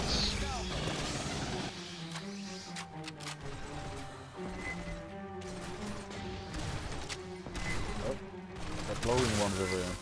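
Weapons fire at aliens in Aliens Fireteam Elite, with rapid bursts of gunshots and crashing impacts mixed with game music and effects, while people talk over the action.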